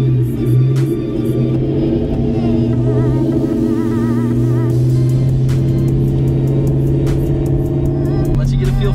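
A Ford Mustang GT pulls away slowly in first gear, its engine a loud, close, steady low rumble that holds throughout with a slight rise in revs.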